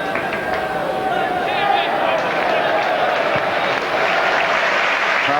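A football crowd at a 1994/95 League Cup second-round match between West Ham and Walsall applauds in a steady roar, continuous and broad, with a commentator talking over it.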